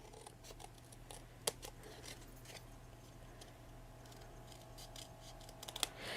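Scissors snip fabric on a dress form in a quiet room, a few faint, sparse cuts over steady low hum, with no talking.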